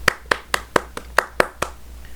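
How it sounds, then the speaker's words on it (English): A single person claps alone about eight times in an even, moderately paced rhythm, each clap crisp and close over a low steady hum, then the claps stop. "let's give him his claps"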